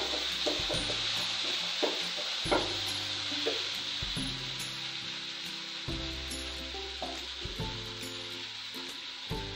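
Mixed vegetables frying in a pan for a veg cheesy mayo sandwich, a continuous sizzle with scattered stirring clinks and scrapes throughout, no voices.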